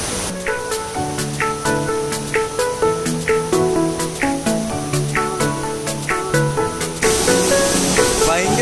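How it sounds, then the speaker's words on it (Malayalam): The Anatti waterfall near Paravoor in Kannur thunders as a loud, dense rush of falling water that bursts in only at the very end, after a long stretch of rhythmic music. "വലിയ വെള്ളച്ചാട്ടമാണ്"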